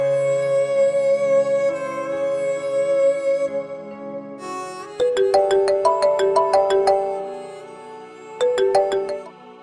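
A mobile phone rings with an incoming call, first a sustained tone and then a bright repeating melodic ringtone in clear bursts, loud and alone without talk.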